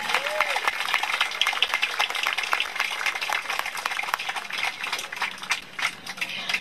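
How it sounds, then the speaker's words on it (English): An audience at a memorial gathering gives a round of applause, steady dense clapping throughout at moderate level, with no voices standing out. "I want you to give another round of applause to these wonderful children that he has."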